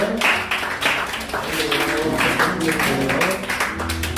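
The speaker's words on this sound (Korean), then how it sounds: "이렇게 우리 박수로 축하하겠습니다." A church congregation at a Sunday service claps together in celebration, a steady rattle of many hands that carries on for several seconds with voices mixed in underneath.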